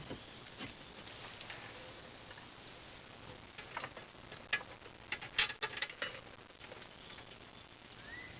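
Faint ratcheting clicks and ticks sound as bolts on a Camaro wheel bearing are tightened in a cross pattern, quiet and intermittent, with a few sharper metallic clacks near the middle.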